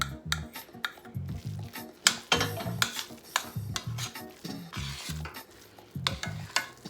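A mushroom loaf mixture with garbanzo bean flour is stirred and mixed in a bowl, giving repeated close, wet squelching and scraping strokes with occasional utensil clinks against the bowl, no talk.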